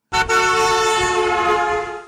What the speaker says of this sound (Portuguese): conforme ele se afasta, a buzina parece ficar cada vez mais grave.